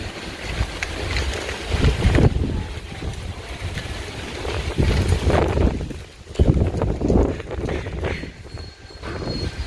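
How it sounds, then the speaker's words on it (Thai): Strong wind on a mountain road in northern Thailand near Omkoi, gusting in uneven rumbling surges that swell and drop against the microphone, loud and close with no other clear sounds. "โอ้ยลมแรงมากเลยวันนี้"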